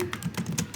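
Commands being typed on a computer keyboard while configuring remote SSH access on a Cisco router, heard as a quick run of close, clicking keystrokes in steady succession.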